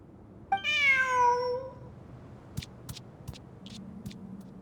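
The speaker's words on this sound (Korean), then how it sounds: "저기 봐, 고양이야." A cat in Genshin Impact gives one clear, drawn-out meow up close, followed by a few soft clicking footstep-like taps over a quiet game background.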